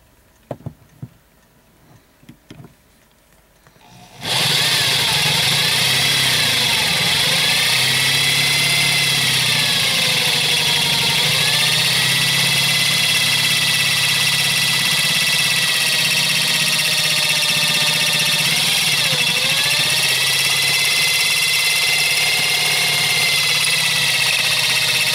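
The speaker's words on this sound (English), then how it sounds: "It is a little harder than you think drilling through brass" A cheap hand drill bores through a brass cartridge case, its motor starting after a few quiet handling clicks and then whirring loudly and steadily, with slight pitch dips as the bit bites the metal.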